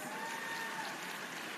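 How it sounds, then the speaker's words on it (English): Audience applause at a conference opening, a continuous wash of clapping from a crowd, even and sustained, fairly faint and without breaks. "please can you give him another round of applause?"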